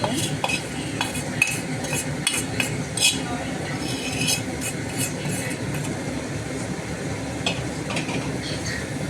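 Prawns stirred into a simmering curry in a pan, a steady bubbling sizzle under repeated metallic scrapes and clinks of a spoon against the pan, close and continuous.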